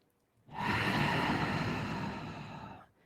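A single long, deep exhale during a yoga pose, close and breathy, rising suddenly from quiet, holding steady for about two and a half seconds, then stopping.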